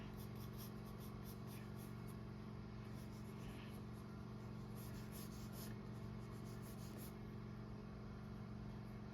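A pencil sketches light construction lines on paper above a face's skull outline, giving faint, repeated scratchy strokes over a steady low hum.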